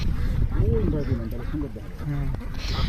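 Two Chinese geese on a village farm quacking nearby, a few harsh calls mixed with people talking over them.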